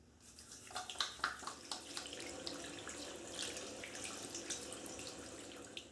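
Water trickles and splashes at a sink as hands are scrubbed with Gojo pumice hand cleaner, a soft, continuous running sound with small splashes and rubbing, fairly quiet and close, no voices.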